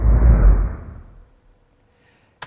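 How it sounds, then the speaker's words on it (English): A slowed-down whoosh made to suggest a heavy wrecking ball flying past: a deep, rumbling rush that swells loudly for about a second, then fades out into near silence, ending with a brief click. "I found a whoosh that was much faster than that. I slowed it down to make it sound big and heavy."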